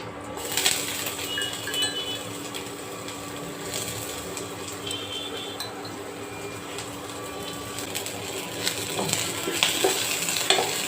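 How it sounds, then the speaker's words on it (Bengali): Onions sizzle in a pan with chili, a steady frying hiss broken by occasional scrapes and stirring clatter, close and moderately quiet with no talk. "পেঁয়াজটা এখন ভেজে নেব"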